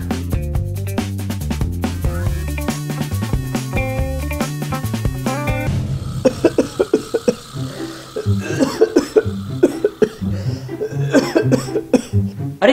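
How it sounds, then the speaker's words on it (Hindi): An elderly man coughs repeatedly in an indoor family comedy scene, rough bursts coming close together over background music. "आपको अचानक से खांसी कैसे होने लगी?"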